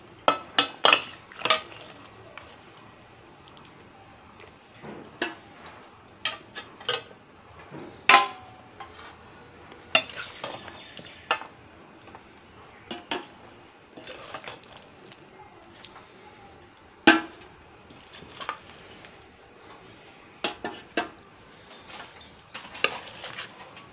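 Chicken pieces go into hot ghee in a metal pot for biryani and are stirred, giving repeated sharp scrapes and clinks of a spoon over a soft sizzle, irregular and close, with a voice talking at times.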